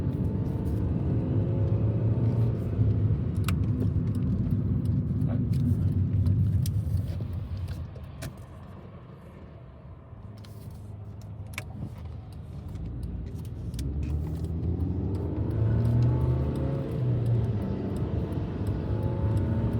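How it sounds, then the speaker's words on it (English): A car gathers speed in passing gear on a highway, its engine and road rumble filling the cabin steadily, dipping briefly mid-way before swelling again, heard from inside with no talk. "So we're passing gear, and I'm not flooring it. I'm just getting up to speed."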